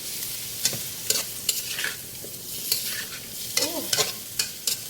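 Carrots and mixed vegetables being stir-fried in a pan: a soft sizzle runs underneath while a spatula scrapes and clatters in repeated sharp strokes, close and fairly crisp.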